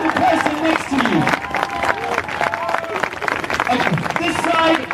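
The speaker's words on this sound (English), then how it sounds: "Applaud the person next to you." Rally crowd applauding one another, a steady wash of clapping and crowd noise under a loud voice speaking over it throughout.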